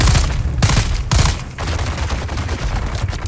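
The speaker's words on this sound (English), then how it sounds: "Who's shooting at me?" Rapid gunfire in the survival game Dune Awakening, loud and close, with dense overlapping bursts of shots running continuously without a break.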